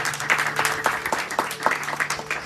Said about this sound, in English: Give all these children a round of applause.